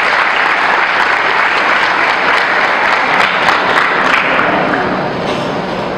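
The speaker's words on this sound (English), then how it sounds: "Let's give ourselves a big hand." Steady, dense applause from a large audience at a student council public lecture on fighting corruption, holding level for about six seconds before easing slightly at the end.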